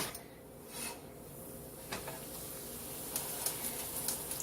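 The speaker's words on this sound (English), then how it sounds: "we're going to put this and sear it into the frying pan" Beef sizzles steadily while searing in a hot frying pan for a pot roast, a constant crackling hiss with occasional light clinks and scrapes, close and moderately quiet.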